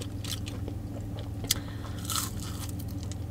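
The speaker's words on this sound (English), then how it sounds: "These waffle fries is nothing to play with." Crunchy Chick-fil-A waffle fries being bitten and chewed close up, a few crisp crunches over a low steady hum.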